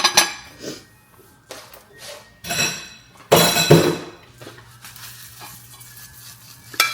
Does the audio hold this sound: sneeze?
no